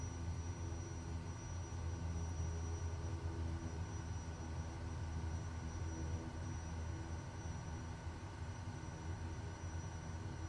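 A Kodiak 100 single-engine propeller plane cruises in Microsoft Flight Simulator 2024, its steady droning engine and prop hum filling the cabin at a constant, unbroken level with no voices.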